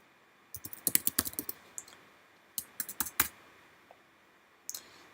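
Typing on a computer keyboard while filling in category names: close, crisp key clicks arrive in quick bursts of several strokes, with short pauses between bursts and a final pair of taps near the end.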